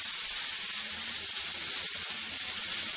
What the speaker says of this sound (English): steam is starting to escape and you can hear it hissing